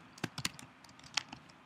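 Loud, clicky computer keyboard typed in short bursts, a quick flurry of keystrokes followed by a few scattered clicks, close and dry in a quiet room.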